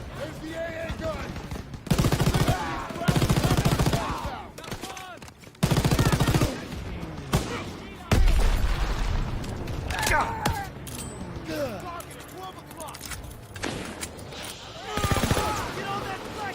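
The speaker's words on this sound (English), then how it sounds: "There's the AA gun!" Gunfire from an anti-aircraft gun in a WWII video game, loud bursts of rapid shots repeating in clusters amid battle noise, with voices shouting over the action.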